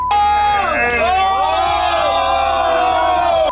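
A man and his crew of friends cheer during a confrontation: a loud, continuous blend of whooping and shouting voices that carries steadily from start to finish.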